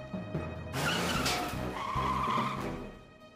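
A cartoon car tears away with a loud screech of skidding tires that swells and holds for a few seconds, then fades, heard up close without dialogue.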